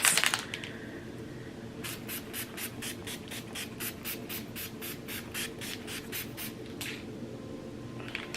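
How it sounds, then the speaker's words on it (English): A setting mist spray bottle spritzes over and over onto a face in a quick, steady rhythm, about a dozen soft hissing pumps close by, then one last spritz. "I'm going to go ahead and spray the face before I head out for a second."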